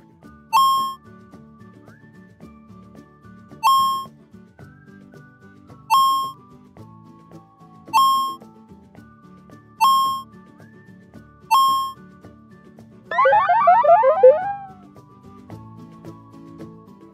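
A retro paddle ball game on a small OLED screen gives six evenly spaced short electronic beeps about two seconds apart, then a brief warbling burst of rising tones, close and clear with no voices.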